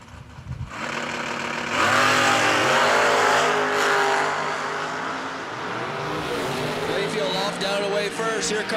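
A 2008 Corvette drag race car launches down the strip, its engine roaring loud and rising in pitch before settling into a sustained high rev, with an announcer's voice running over it.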